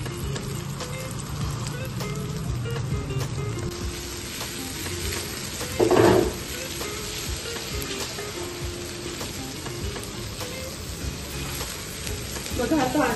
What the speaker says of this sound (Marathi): आता छानपैकी तेल गरम झालंय, आपण ठेचा टाकून घेऊ आपला आणि टाकून थोडंसं परतवायचं आहे